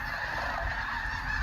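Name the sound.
flock of geese honking at roost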